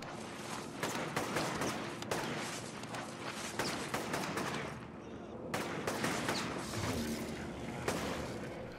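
Gunfire in the video game inFamous, with repeated loud sharp shots and bursts from rooftop snipers, rapid volleys and booming impacts spread over several seconds, fairly close and dense.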